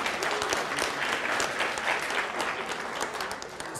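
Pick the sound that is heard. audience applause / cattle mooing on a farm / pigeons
audience applause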